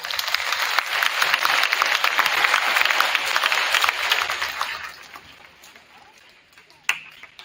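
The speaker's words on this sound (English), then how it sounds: "Let's give those two a round of applause" Applause for two freshman boys' basketball players at a Ladysmith High School team gathering, a dense wash of clapping from a crowd that stays full for several seconds, then thins out and fades, with one sharp clap near the end.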